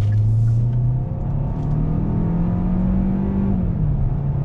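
A 2020 Hyundai Sonata accelerates under throttle, its engine note climbing steadily, dipping briefly at a gear shift, then rising again, heard from inside the cabin with no talking.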